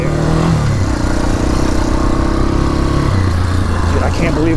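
Yamaha Warrior ATV engine droning loudly and close while riding, a steady rough mid-pitched hum with a slight shift in pitch near the end, dominating the whole stretch.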